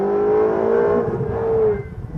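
A Ferrari 488 accelerates on a highway, heard from inside the cabin as a smooth, steady engine tone that climbs in pitch for about two seconds before easing off.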